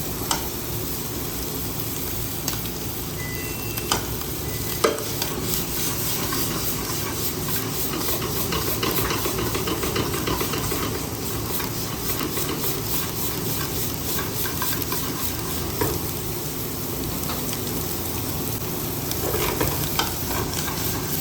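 Tomatoes frying in a hot pan for breakfast, giving a loud, continuous sizzle and hiss with repeated stirring scrapes, close by and with no voice over it.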